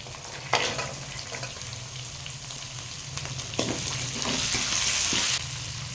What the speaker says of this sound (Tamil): தேங்காய் வெங்காயமெல்லாம் நல்லா வதங்கிடுச்சு